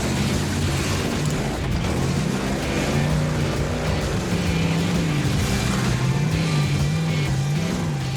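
A Jeep's engine labors while trying to climb a wall of tires in an off-road competition, its pitch rising and falling in repeated surges, loud and continuous without pause.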